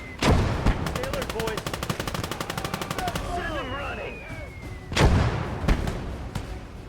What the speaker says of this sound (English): So tons of little funny little machine guns up in here.